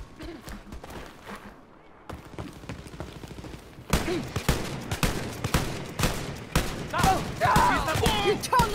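A big gun firing in the video game Wolfenstein: Youngblood, with repeated heavy shots and booms that grow louder and denser after a quieter start, with some voice mixed in.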